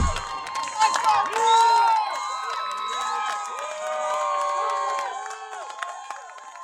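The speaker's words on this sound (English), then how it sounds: "You see how crazy they got in the crowd right there?" An MMA fight crowd erupts, with friends whooping and shouting wildly, overlapping high excited yells and cheers rising and falling loudly around a close, busy roar.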